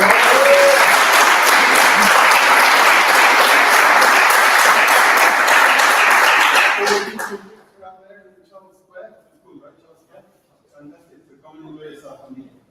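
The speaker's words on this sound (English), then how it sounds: "Round of applause for Ray" Audience applause at a live demo night, loud, dense and sustained for about seven seconds before cutting off, followed by faint scattered sounds and quiet murmurs.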